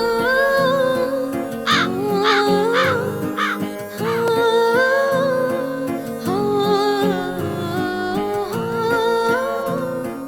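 Crows caw repeatedly in a film scene, a series of harsh, rasping calls in uneven bursts that overlap at close range and continue for about ten seconds with no talking.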